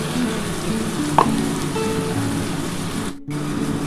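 Masala for chicken kosha fries in a pan with a steady close sizzle and crackle, a brief utensil tap early on and a short dip near the end before the sizzling resumes.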